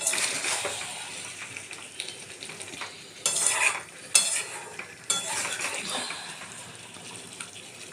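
Meat sautéed with yogurt and spices, a soft continuous sizzle with irregular louder bursts and scrapes as a utensil stirs and turns it in the pan, with no voices.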